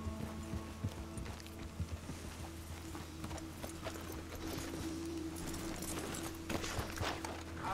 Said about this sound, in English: Horses off the road to the right here.